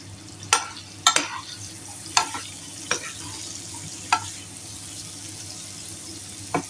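Large anchovies frying in hot oil, with a steady low sizzle under a series of sharp, irregular scrapes and clinks from a utensil stirring or lifting the fish, close and moderately loud, no talking.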